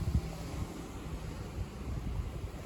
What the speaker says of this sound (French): Le vent là, il commence à monter en flèche.